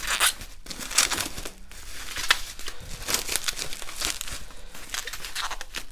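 Bockingford hot press watercolour paper packaging is yanked open with bursts of crinkling and tearing plastic, close and fairly quiet, in irregular rustling bursts throughout.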